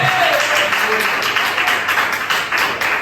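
A church congregation applauds during an evening evangelical service, with steady, fairly loud massed clapping throughout and faint voices underneath.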